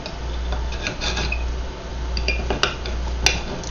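Knife and fork clink and scrape against a plate while cutting cooked fig-glazed pork chops, with light irregular taps and a few sharper metallic ticks over a low background hum.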